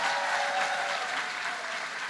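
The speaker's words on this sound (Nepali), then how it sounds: "Give a good clap to him. जोरदार ताली बजाइदिनुहोस्" An audience at a church camp meeting applauds steadily, a dense wash of clapping that holds at an even level throughout.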